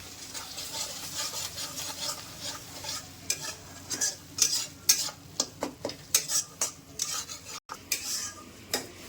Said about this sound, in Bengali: এইটা হালকা 2 মিনিট কষিয়ে সামান্য একটু জল দিতে হবে